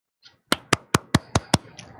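Six sharp, evenly spaced hand claps ring out close and loud in quick rhythm, each a crisp smack followed by a short decay, with no talking over them.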